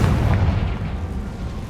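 A Confringo spell explosion in Hogwarts Legacy erupts as a loud, dense low rumbling blast that fills the short moment and stays heavy throughout.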